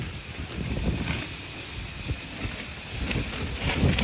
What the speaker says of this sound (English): Look how much wind is blowing it.